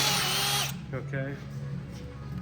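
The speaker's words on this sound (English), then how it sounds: "1/4-inch drill bit." A power drill with a 1/4-inch bit whirs loudly and then cuts off abruptly, leaving a quieter room hum with a short scrape or squeak afterward.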